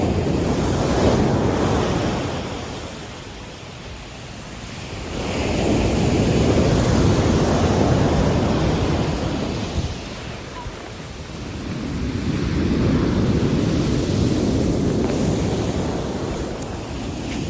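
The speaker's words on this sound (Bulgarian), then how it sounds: "Морето е доста буйно." Rough sea waves surge and break on the Lefkada coast in Greece, a heavy continuous roar that swells and recedes in slow cycles, with strong wind buffeting the microphone.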